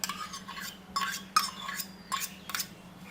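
A spoon scrapes and clinks against a bowl in a few separate bursts while stirring yogurt into appam batter, quiet and close, with soft stirring between the knocks.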